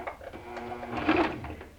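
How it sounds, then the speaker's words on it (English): Sewing machine running as it stitches a Dresden Plate quilt block, a short, steady whirring motor hum with a slight rise partway through, close and alone without talk. "I'm going to go to the sewing machine"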